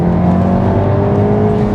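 A 500hp manual Mk7.5 Volkswagen Golf R engine revs hard and steadily under acceleration, a loud continuous drone with no breaks.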